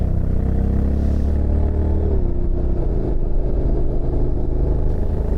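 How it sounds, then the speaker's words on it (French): A 2023 Honda NC750X DCT motorcycle rides along with a steady, loud engine drone and rumble, the pitch shifting slightly as it shifts, with constant wind and road noise. "cette moto est agréable à conduire"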